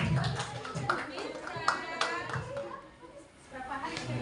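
Clapping from an audience at a school year-end performance and report-card day, scattered and moderately close, mixed with children's chatter and voices talking throughout.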